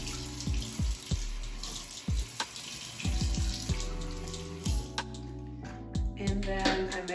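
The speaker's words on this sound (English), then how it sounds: "I'm gonna run some warm water." Warm water running steadily from a tap, with the hiss of the flow and splashes as the stream is interrupted, alongside clinks and handling noises.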